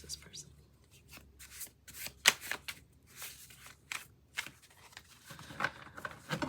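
Repeated bursts of tarot cards being shuffled and riffled up close, uneven in rhythm, with soft rustling between them.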